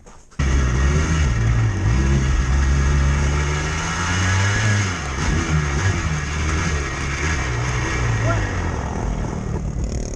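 Yamaha Blaster 200 ATV engine running hard and loud close by, a sustained rough revving drone with wavering pitch through the whole stretch, no clear stall or drop to silence.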